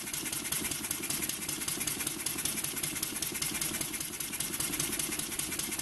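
A small model steam engine chugs continuously at a quick, even rhythm, close and fairly loud, with a hissing wash throughout and no talking.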